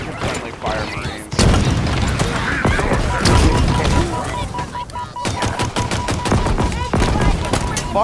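Heavy weapon fire in Halo Infinite from a Ravager, loud repeated bursts and booming blasts mixed with battle noise, with voices talking over the combat.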